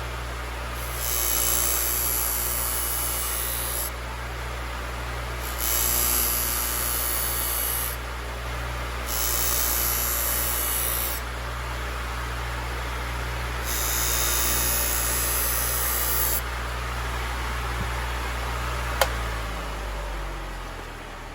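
A knife is drawn through a sharpener in repeated strokes. Several sharp, hissing passes of about two to three seconds each are separated by short pauses over a steady low hum, with a small click near the end.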